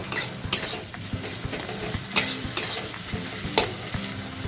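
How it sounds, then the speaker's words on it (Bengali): A whole tomato fries in a pan with a steady sizzle, punctuated by several sharp utensil clanks and stirring scrapes against the pan. "টমেটোটাকে আমি একটু ভেজে নেব।"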